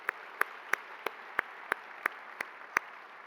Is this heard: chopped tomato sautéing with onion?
no